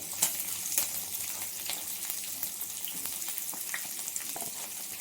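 Chillies, curry leaves, green chillies and onion fry in hot oil for tomato chitranna, giving a continuous soft crackling sizzle with a few faint clinks, steady and moderately close, with no talk.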